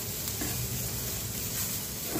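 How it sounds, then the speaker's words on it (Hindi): Spices stirred and frying into onions in a pan for rajma make a steady, dense sizzle with faint stirring scrapes, constant and close, with no voices. "मसालों को प्याज में अच्छे से मिला देते हैं।"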